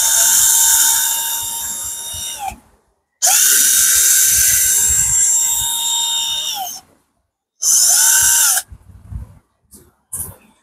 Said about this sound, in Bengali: আপনারা যারা কম বাজেটের মধ্যে ব্যাটারি চালিত ড্রিল মেশিন চাচ্ছেন